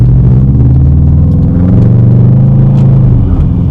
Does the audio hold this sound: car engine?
yes